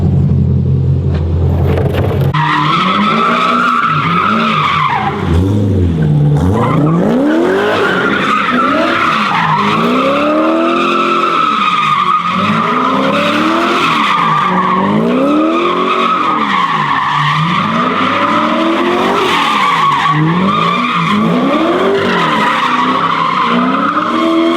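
A car fitted with aftermarket headers and an upgraded exhaust loops tightly around a cone course, tires squealing and skidding continuously while the engine rumbles and rises and falls in repeated swells, loud and close.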